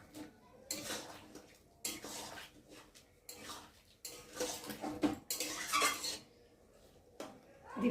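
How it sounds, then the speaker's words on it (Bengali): Metal spatula scraping and mashing cooked potatoes in a pan for a thickened curry, a run of irregular close clattering and scraping bursts separated by brief pauses. "খুন্তি দিয়ে একটু আলুগুলোকে ফাটিয়ে দেবো"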